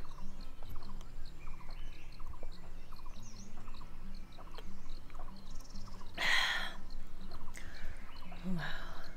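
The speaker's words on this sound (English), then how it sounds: "The nature sounds, you can hear the birds and other animals." Birds and other animals call in a natural forest setting in Nong Khia, Laos, with scattered faint chirps over a steady ambient bed and a brief louder rustle partway through.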